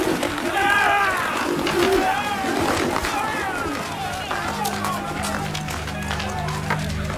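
Pigeons coo and flutter among a bustling crowd in a dramatized temple marketplace scene, with hurried footsteps and a low hum, under a narrating voice.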